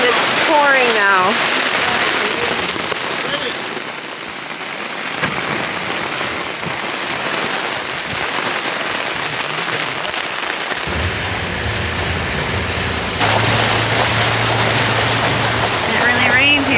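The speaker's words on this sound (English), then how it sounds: "So we're in the truck and it's pouring now." Heavy rain pouring onto a safari truck in the Zimbabwe bush, a dense continuous roar of drumming water that holds steady across the whole stretch, with an engine hum rising near the end; no one speaks.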